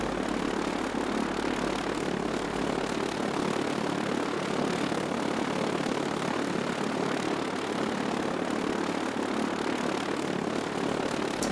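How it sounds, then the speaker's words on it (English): Propeller wash of an Fw 190 fighter plane in a flight simulator game, a continuous dense roaring rush of air with a low hum underneath, steady and loud throughout with no voices. "So what you're hearing right now is the prop sound, like the prop wash."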